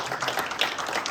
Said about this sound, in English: So give them a round of applause for the work that they